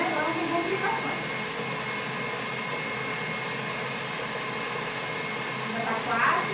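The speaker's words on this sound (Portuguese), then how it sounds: "Ela é uma batedeira boa, mas ela tem a rotação baixa." Electric stand mixer beating red velvet cake batter, a steady whirring motor drone held at an even level throughout with slight swells near the end, no voices.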